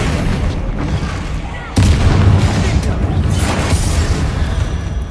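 In the video game Hogwarts Legacy, a Confringo fire blast spell erupts into a dense, roaring explosion that jumps suddenly in loudness and rumbles on over busy ambient game noise.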